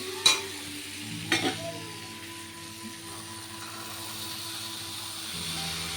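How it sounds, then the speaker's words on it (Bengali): Potatoes and spices frying in a pan, a gentle steady sizzle nearby with a couple of sharp utensil knocks near the start and a faint hum beneath. "তো এখানে মশলাটা কষিয়ে মটরের আর কি তো আলুটা কষিয়ে নিলাম"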